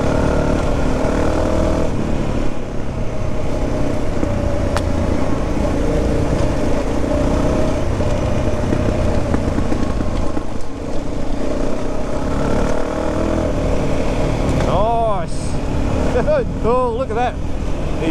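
A 2023 CFMOTO 800 MT Explore adventure motorcycle is ridden at speed, its engine pulling hard under a loud, steady roar mixed with wind rush, and a few short squeaky chirps near the end.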